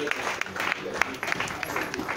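Audience clapping after a talk on business environment and youth employment in Nigeria, a moderate round of applause with individual claps audible and a voice speaking over it.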